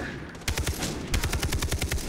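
Gunfire in the video game Far Cry 3: loud rapid bursts of automatic weapon shots, with a short volley followed by a longer sustained stream of evenly spaced rounds.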